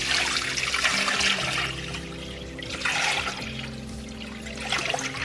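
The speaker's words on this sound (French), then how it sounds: "Moi, je vais mettre ma main pour ne pas tout chambouler. Comme ça, l'eau, elle tape sur ma main." Water poured over a hand into an aquarium during an EHEIM Classic 250 pump cleaning, a steady close splashing gush that runs for several seconds with slight surges in strength.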